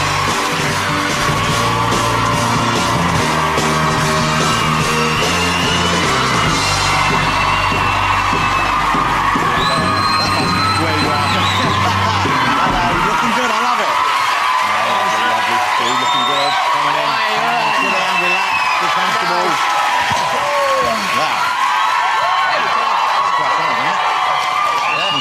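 A television studio audience screams and cheers for One Direction, a loud sustained crowd roar of shrieks and whoops that peaks early, then thins into scattered yells.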